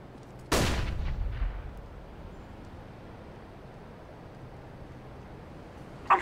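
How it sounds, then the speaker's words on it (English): A flashbang grenade detonating in CS:GO on the Dust2 map: a single sharp, loud bang with a short echoing decay, then quiet game ambience and a faint click at the end. "I'm throwing a flashbang."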